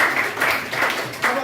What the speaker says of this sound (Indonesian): bilang tepuk tangan buat temenmu ini